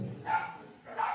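A dog barks outside during a church gathering, two short faint yips about a second apart, heard from a distance.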